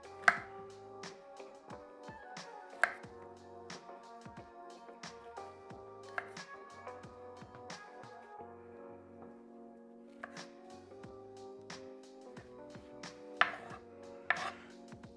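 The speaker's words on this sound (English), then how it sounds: "for the mushrooms, I'm just gonna cut a little bit the bottom" A knife trims the bottoms off mushrooms on a cutting board, several sharp chops and taps spread across a quiet kitchen backdrop with faint tonal background sound.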